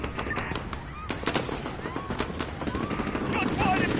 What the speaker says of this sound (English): Shots fired in Piccadilly Circus. Multiple casualties.